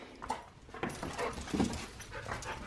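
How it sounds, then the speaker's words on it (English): A pet dog pants and whimpers close by in a room, giving quick breathy huffs and soft whines in irregular bursts, with no talking. "that is our dog Rocky"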